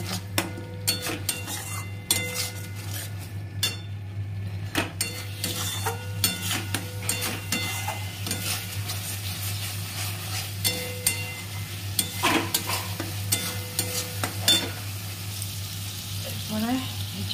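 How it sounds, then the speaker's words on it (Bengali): Masala is stir-fried in a pan with a constant sizzle under repeated clinks and scrapes of a ladle against the metal, over a low steady hum. "এবার ভালো করে মশলাটা কষিয়ে নিতে হবে, সুন্দর করে কষিয়ে নিতে হবে"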